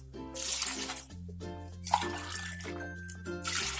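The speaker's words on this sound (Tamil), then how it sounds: "அதே மாதிரி 6 கப் தண்ணி தான் ஊற்ற போறேன்." Water poured from a vessel into a cooking pot while making mushroom biryani, with six cups added, a close splashing, trickling pour that comes in a few bursts over a low background hum.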